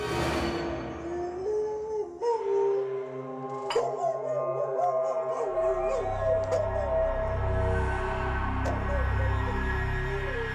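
A dog howls on an estate in a Hindi crime drama, in long, wavering tones, with whimpering and a low rumble of background noise, fairly close and loud throughout.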